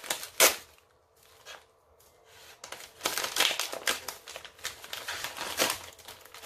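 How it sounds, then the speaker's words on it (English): A large parcel is torn open by hand. Sharp crinkling and ripping bursts come in irregular spurts, starting with one loud snap and growing busier in the second half, close and fairly quiet with no talk. "This is a big package. Can I just rip this open?"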